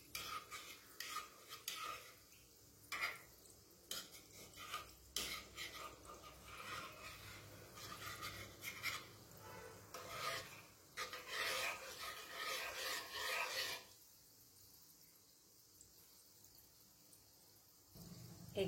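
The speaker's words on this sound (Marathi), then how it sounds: "अधूनमधून फक्त चमचा त्यामध्ये गोल असा फिरवायचा आहे" A spoon stirring gulab jamun as they fry in oil in a kadhai, a steady rasping scrape and sizzle that carries on for a while before quieting near the end, with no voices.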